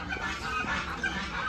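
A goose at a zoo gives short honking calls, fairly close and moderately loud, in a brief burst.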